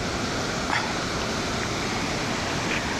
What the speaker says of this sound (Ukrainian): Оце вона зараз тут водоспадає.